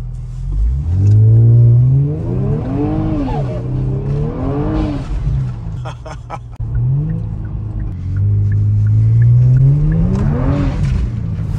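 A Kia Stinger AWD is floored on snow at 29 degrees, its engine climbing in rising revs that fall with each shift and build again, loud and close, with a few brief clicks in the middle.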